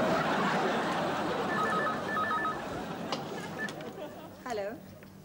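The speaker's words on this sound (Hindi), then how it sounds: "टोनी उस बूथ में घुसकर समीर का नंबर मिलाता है।" Dialing at a telephone booth: a short series of electronic keypad tones sounds over busy street noise and background chatter, followed by a brief rising electronic warble.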